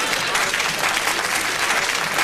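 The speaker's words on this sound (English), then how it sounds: "Give them a round of applause" Applause from a studio audience at a children's TV variety show fills the whole moment, with dense, steady clapping that holds an even loudness throughout.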